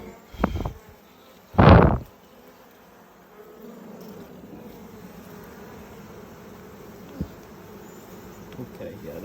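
Honeybees in an opened hive buzz as a low, steady hum, faint beneath a couple of loud handling knocks and thumps near the start.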